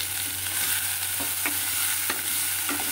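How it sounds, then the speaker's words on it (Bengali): Tomato and lentils frying in a pan over low heat, a steady dense sizzle with faint scattered stirring scrapes, close and continuous, with no talk. "ভালো করে ভেজে নিতে হবে ডালটার সাথে আরেকবার।"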